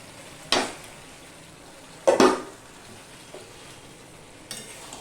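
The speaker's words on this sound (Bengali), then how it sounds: "এবার দিয়ে দিচ্ছি ভেজে রাখা ডিমগুলো" Fried eggs tipped into a pan of softened capsicum for an egg curry, landing with a couple of sharp clattering sizzles and a smaller clink later, over a quiet low hiss between them.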